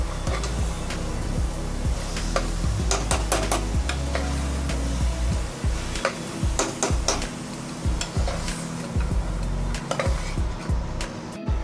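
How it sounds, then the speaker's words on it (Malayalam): Chickpeas being stirred into masala in a pan, with repeated scraping and clacking of a spoon against the pan over a soft sizzle, irregular and close, with no talking. "എന്നിട്ട് നന്നായിട്ട് മിക്സ് ചെയ്തെടുക്കാം മസാലയുമായിട്ട്."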